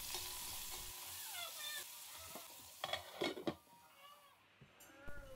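Onion half-rings fry slowly in oil in a hot pot, giving a steady soft sizzle with a few louder crackles and clinks midway, and no voices.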